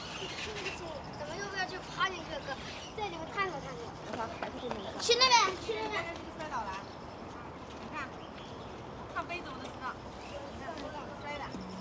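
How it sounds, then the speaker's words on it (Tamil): Children play in the play area of a residential apartment complex in China, with kids' voices chattering and calling at a moderate distance and a brief louder burst of shouting midway. "குழந்தைங்களுக்கு விளையாடுற ஏரியா பார்த்திங்கன்னா இது ஒன்று"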